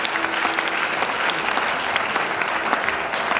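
A church congregation applauding loudly and steadily, a dense wash of many hands clapping close by with no break.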